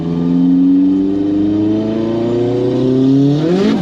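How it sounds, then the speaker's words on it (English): A turbocharged 343 bhp 2.0-litre Renault Kangoo van engine revs loudly and steadily up close, its rising whine and drone held for several seconds with no voices. "Oh, it sounds good. You can just hear the turbo."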